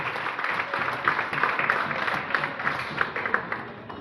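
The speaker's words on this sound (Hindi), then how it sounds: "मैं सभी से उम्मीद करूंगा एक बार जोरदार तालियों से इनका स्वागत करेंगे" An audience at a community organisation's event claps to welcome a chief guest, with dense, sustained applause rising and falling for several seconds close by.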